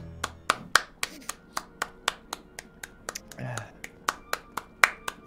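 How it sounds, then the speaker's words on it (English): Sharp finger clicks and hand claps ring out in a steady, evenly spaced rhythm of close, crisp snaps, with a brief moment of voice partway through. "it's just like the sound of clapping. Same with clicking as well. Like when you click your fingers."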